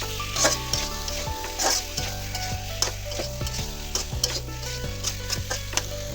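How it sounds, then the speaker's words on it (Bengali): Spiced papaya pieces being stirred in a hot pan for a small boal fish curry, with steady sizzling and frying under repeated scraping strokes of a spoon against the pan, close and fairly loud. "পেঁপেগুলোর সাথে আমি মশলাটা ভালো করে মিশিয়ে নিতেছি"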